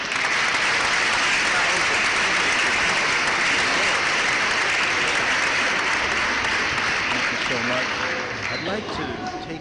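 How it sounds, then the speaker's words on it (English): A loud, full round of applause from a crowd, dense sustained clapping that begins at full strength and tapers slightly toward the end, with voices faintly mixed in near the close. "Give me a round of applause for everybody that listens to this show."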